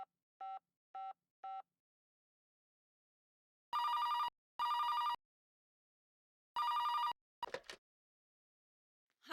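Telephone at night giving short dialing beeps, then loud repeated electronic ring bursts in pairs, followed by a rustle of handling, with no talk.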